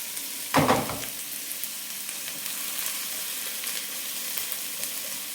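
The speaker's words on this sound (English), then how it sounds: "now to put in the ginger and the garlic and just fry these for around 1 minute" Ginger and garlic frying with onions in a curry pan, a burst of sizzle as they go in, then a steady soft crackle and hiss continuing alone at moderate level.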